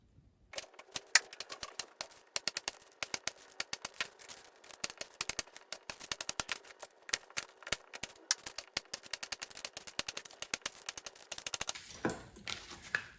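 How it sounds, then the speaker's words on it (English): Knife repeatedly chopping raw unpeeled apples into small cubes on a board, with a quick, steady run of sharp close taps that continues almost without pause and stops near the end. "So I'll cut it into slices and cut the slices into small cubes."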